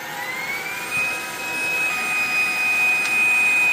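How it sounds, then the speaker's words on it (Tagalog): A cordless vacuum cleaner found in the trash, recharged and switched on, gives a steady loud whine with a high motor tone that holds throughout, close by with no talking. "ang ganda nitong vacuum na to. Talagang malakas humigop"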